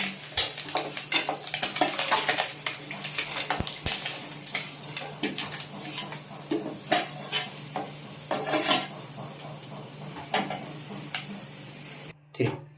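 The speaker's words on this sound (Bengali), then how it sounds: "মাছটি ভাজা হয়ে গেছে। এখন আমি মাছটি তুলে নিচ্ছি।" Small bele fish come out of hot frying oil, with a soft sizzle under repeated scrapes and clinks of a metal spatula against the pan before a sudden cut near the end.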